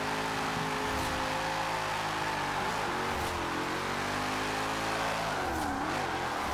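Holden Commodore drifting at full throttle in Forza Horizon 4, a sustained loud engine drone with wavering pitch and a couple of revving swells as it slides through a transition, with faint tire noise and no talking.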